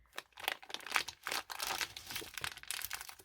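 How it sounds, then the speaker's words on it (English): A plastic bag crinkles and rustles in steady bursts as packaging for magnetic putty stones is opened up close, with no talking. "it actually comes in a plastic bag like this"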